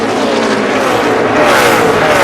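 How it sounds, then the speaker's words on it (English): NASCAR race car engines at the 2011 Dollar General 300, a loud, sustained roar of engines at high revs with rising pitch as cars sweep past close by. "Heard Logano complained about his engine earlier"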